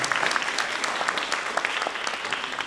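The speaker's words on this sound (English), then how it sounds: "So one more round of applause for these folks" Sustained applause from a summit audience for a panel, dense overlapping claps filling the whole stretch at steady loudness with no voices.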